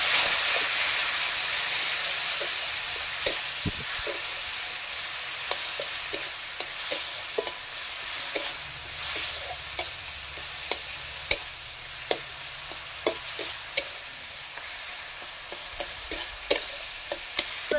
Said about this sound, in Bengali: এই মশলাগুলো একটু ভেজে নিবে, একটু জল দিয়ে দেবো।